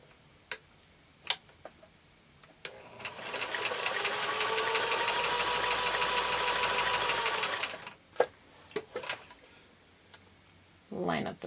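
A sewing machine stitches quilt block pieces for an uneven nine patch, running in a steady rapid clatter for several seconds, with scattered clicks and handling taps before and after.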